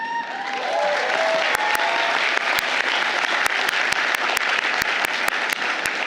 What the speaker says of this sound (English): We applaud our SJD graduates.